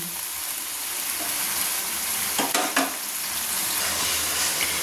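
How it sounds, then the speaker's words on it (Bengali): Onions fry in a pan for a Bengali mutton kosha, giving a dense, even sizzle up close, with a brief burst of stirring or scraping in the middle and no talking. "পেঁয়াজটা একটু লাল লাল করে ভাজা হওয়া পর্যন্ত আমরা অপেক্ষা করব"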